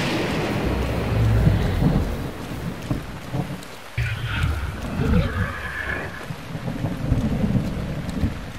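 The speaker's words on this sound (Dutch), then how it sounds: "Bliksem slaat gewoon in naast dit ding." Thunder and lightning strikes in Zelda: Breath of the Wild on an island: steady loud rain with rolling rumbles, and a sharp nearby crack of lightning partway through followed by heavy booming thunder.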